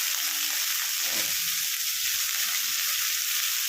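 Chopped fenugreek leaves fry in a pan, giving a steady, even hiss of sizzling oil with a few faint stirring scrapes underneath.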